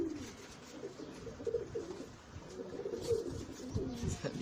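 Pankhi breed pigeon chicks cooing softly, low murmuring coos in short repeated bursts, close by and fairly quiet with light background noise.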